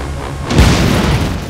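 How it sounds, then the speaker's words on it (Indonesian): A car blown up as a diversion in an action film: a deep, booming blast swells in about halfway through and rumbles on at full strength through the rest of the moment, with no voices over it. "membuat pengalihan dengan meledakkan sebuah mobil"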